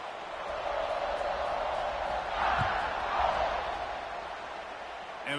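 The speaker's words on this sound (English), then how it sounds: "this crowd is buzzing after that last score" Football stadium crowd buzzing in a video game after a score: a continuous, dense murmur of many voices with a few faint swells of cheering, heard from a distance and steady throughout.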